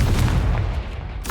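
A fiery Confringo spell blast in Hogwarts Legacy, a burst of booming, crackling impact noise with a strong low rumble, followed by a sharper bright crack near the end.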